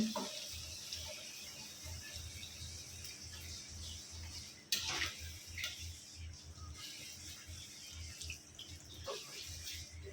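Water poured into a pot of pigeon meat curry, a quiet continuous splashing stream under faint room noise.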